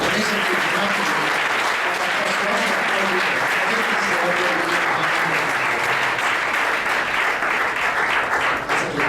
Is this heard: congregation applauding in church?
yes